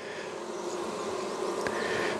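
Honey bees hum in a dense, steady drone at close range while a hive's brood frames are inspected, with one brief sharper buzz as a bee passes near.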